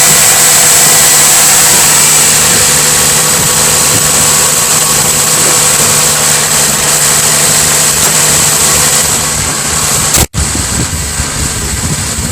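Steady idle of a car engine just after a cold start, a 2000 Mazda MPV or 1998 Olds LSS, heard loud and close under the open hood as an even hum with a high whine and one brief dropout near the end.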